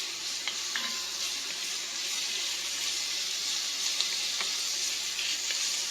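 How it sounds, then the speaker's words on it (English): Bacon sizzling in a pan for chowder, a dense, steady hiss of frying fat with faint crackles and occasional light taps, heard close and without voices. "bacon lets off such an amazing aroma when you're cooking it"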